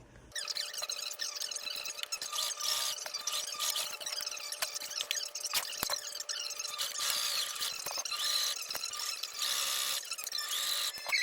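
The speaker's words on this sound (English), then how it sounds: "I'm actually going to sew like a little bit down here, stop it, and then start back up down here and sew the rest" A sewing machine stitches a dog bandanna with a plant theme, running as a steady close mechanical whir with clicks and small pauses, start to finish, with no talking.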